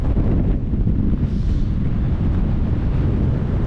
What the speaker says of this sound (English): Yeah, it's a tad windy